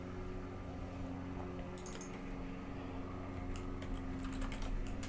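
Computer keyboard typing at a desk, soft irregular keystroke clicks that start after a quiet moment and come in quick bursts over a low steady room hum.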